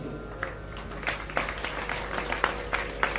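An audience at a Hindi religious discourse claps in scattered, uneven bursts, moderately near and fairly soft, with a steady hum beneath the applause.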